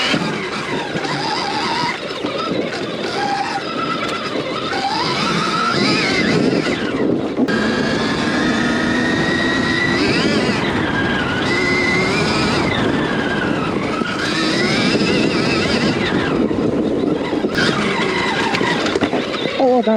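A Stark EX electric enduro motorcycle gives off a continuous high electric whine that rises and falls in pitch as it speeds up and slows, loud and close, with rough riding noise underneath.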